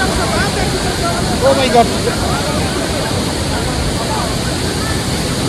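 Kawasang waterfall in Moalboal, Cebu, with a strong current roaring as a loud, constant rushing wash of water that fills the whole clip, while a voice briefly exclaims partway through.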